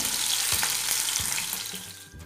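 Onions sautéing in a pan for moong dal sambar, a loud continuous sizzle with a few soft thuds and scrapes as the pieces are moved around.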